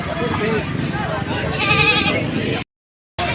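Goats at a livestock market in Padre Garcia, Batangas bleat over one another, loud and close, while someone talks over the animals before a sudden short gap of silence.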